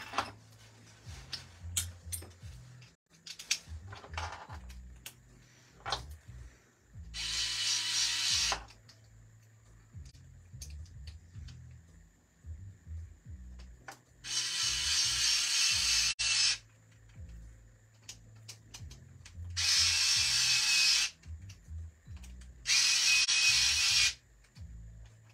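Assembly of the central section of a Genius GTC8E 2023, with tools tightening parts: short ticking clicks, then several long loud buzzing bursts of a powered driver, separated by quiet pauses.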